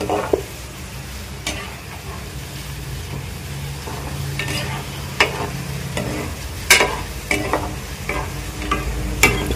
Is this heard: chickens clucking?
no